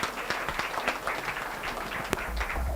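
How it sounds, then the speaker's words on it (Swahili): A seminar audience in Nairobi applauds, producing a dense, steady wash of clapping that holds evenly for a few seconds, moderately loud and without talking. "Haya, wapi makofi yake tafadhali?"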